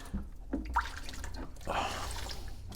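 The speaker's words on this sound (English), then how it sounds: "See, I'm dumping out the water." Water is tipped out of a Fluval 307 aquarium canister filter, giving soft splashes and drips in two short bursts, fairly quiet and close.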